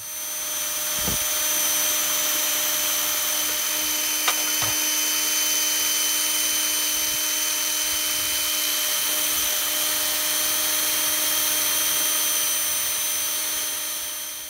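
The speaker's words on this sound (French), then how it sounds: "pour finaliser un petit peu ce qui a été dégrossi avec la perceuse et l'embout métallique" Power drill spinning a metal wire brush attachment to clean a part, a steady high whine running for about fourteen seconds with a few brief ticks and scrapes.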